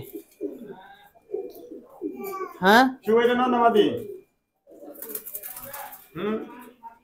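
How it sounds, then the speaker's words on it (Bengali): Pigeons of fancy breeds in a loft give a few soft throaty coos, close and intermittent, heard among someone talking nearby. "প্রিয় বন্ধুগণ, এটা একটা মাদি কবুতর।"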